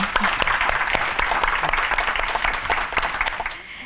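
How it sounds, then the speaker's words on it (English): Audience applause rounds off a closing ceremony, a dense steady wash of many hands clapping together that carries for several seconds and then thins and fades at the end. "let's give them one more round of applause"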